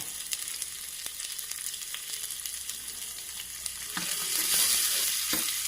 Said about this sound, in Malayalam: നാളികേരക്കൊത്തുകൾ വറുത്തിടണം, നെയ്യിൽ വറുത്തിടണം.